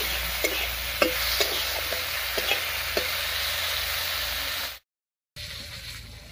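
Potatoes frying in a pan with salt and turmeric, a close steady sizzle punctuated by light rhythmic spatula taps, then a brief cut to silence before the frying hiss resumes.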